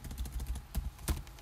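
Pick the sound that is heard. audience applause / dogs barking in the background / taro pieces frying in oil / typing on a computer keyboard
typing on a computer keyboard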